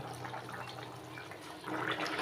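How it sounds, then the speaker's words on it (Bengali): Fish curry gravy simmers in a pan over a medium gas flame, giving a faint, steady bubbling hiss that swells slightly toward the end, with no voices. "দেখুন ঝোলটা কেমন সুন্দর ফুটে উঠেছে"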